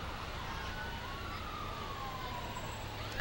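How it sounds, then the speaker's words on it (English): Waupaca Fire Department fire trucks pass in a Fourth of July parade, a faint wailing siren sweeping slowly over a steady wash of crowd and street noise. "This is the Waupaca Fire Department going past. Lots of lights and sirens."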